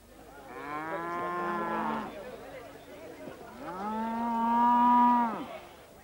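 Cattle at an August cattle show on an island bellow two long, loud moos close by, the second deeper and stronger, with a faint background murmur of people.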